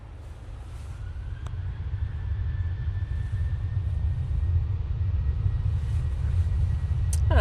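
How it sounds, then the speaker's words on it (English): A Gulf Air airliner on its departure roll, a steady low rumble that slowly swells in loudness and holds at a distance with no voices over it. "we're going to stay on this Gulf Air for an extended departure"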